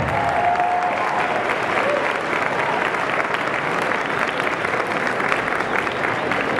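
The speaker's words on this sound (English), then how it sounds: "Let's have a great round of applause for these semifinalists once again" Sustained applause from a ballroom dance championship audience at the Ohio Star Ball, cheering semifinalist couples; dense, even clapping fills the hall throughout with a faint crowd murmur.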